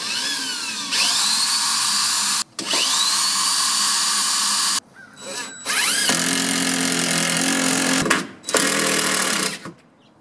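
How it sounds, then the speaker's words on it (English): A power drill pre-drills holes in a composite deck board for screws, giving several close, high-pitched whining bursts of a few seconds each, separated by short pauses. "Now we can pre-drill and secure it."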